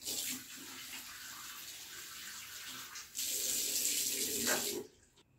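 Tap water runs steadily into a plastic bottle while a bathroom cleaning mixture of salt, liquid soap and air freshener is being made, the flow growing louder and brighter midway before cutting off near the end.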